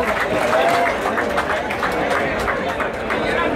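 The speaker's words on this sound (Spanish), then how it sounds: "¿Nos escuchan esos aplausos?" A crowd at a fishing tournament claps for the winners, with dense, steady applause and murmuring voices mixed in for the whole stretch.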